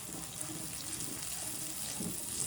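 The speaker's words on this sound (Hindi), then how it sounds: "इसी जग में मैं थोड़ा सा पानी डालूँगी और उसे भी डाल दूँगी।" Water is poured from a jug into a pan of egg korma, making a steady, soft rushing and sizzling wash that runs the whole time without a break, fairly quiet and with no voices.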